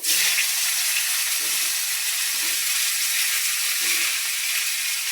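Cauliflower florets frying lightly in oil left over from frying fish, a dense continuous hiss and sizzle that holds steady throughout, close up with a few faint low bumps underneath.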